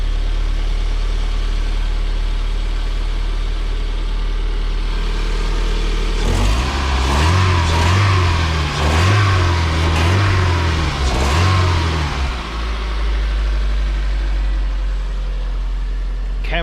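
A Toyota MR2 fitted with a Camry engine idles steadily, then revs up in several quick rising blips before dropping back to a smooth idle, loud and close.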